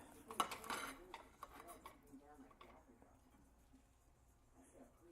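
Knife cutting through cooked steak on a plate, several close scraping and clicking strokes at first, then quieter handling sounds with faint low talk in the background.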